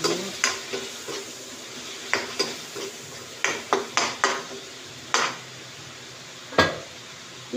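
A spoon scraping and clanking against a pan while mung beans are stirred, a series of sharp knocks and scrapes spaced irregularly over a faint background, close by and without talk.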